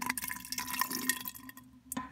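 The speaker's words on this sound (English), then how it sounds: "I'm just going to add a drop of water and help loosen things up." Water dripped into jelly inside a blender, a brief run of faint, close wet splashes and small drips.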